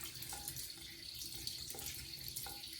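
A sink tap runs steadily while face cleanser is rinsed off, with close splashing and small drips over the even flow of water and no voices.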